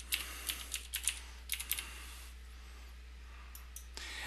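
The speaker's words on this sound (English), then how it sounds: "click Add Chassis and type in the IP address of your chassis." Keystrokes on a computer keyboard as an IP address is entered for a Spirent TestCenter chassis: a quick run of close, crisp clicks, then a pause and a few scattered taps over a low steady hum, with no voices.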